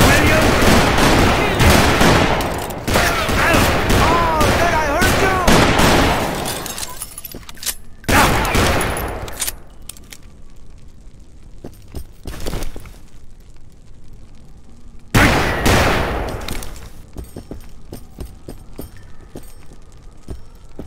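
Gunfire in Call of Juarez: Bound in Blood, dense rapid shots and crackling bursts in loud clusters separated by quieter gaps, with voices shouting in between.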